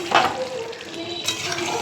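Catla fish curry in yogurt, dressed with ghee, stirred in a wok: a soft, brief sizzle with light scraping from the stirring, fairly quiet and without talk.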